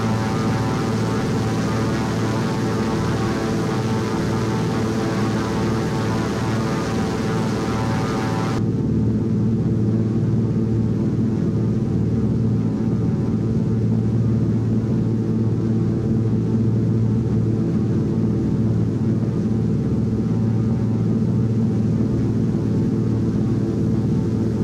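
DHC-2 Beaver bush plane in flight in the X-Plane 11 simulator, a steady loud propeller-engine drone with deep rumble that continues unbroken throughout, its upper hiss cutting off partway through.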